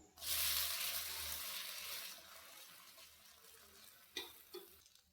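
A wheat flour dish frying in a pan is stirred, giving a steady sizzling hiss that rises sharply at the start and slowly fades, with a couple of brief utensil clicks near the end.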